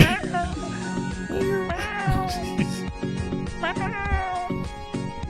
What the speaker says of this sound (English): That cat's dying.